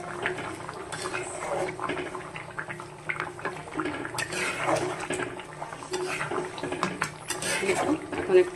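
A spoon clinks against a pan while fish curry with tomato and garam masala bubbles and sizzles, soft scraping and tapping scattered throughout at low volume.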